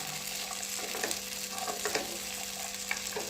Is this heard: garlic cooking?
yes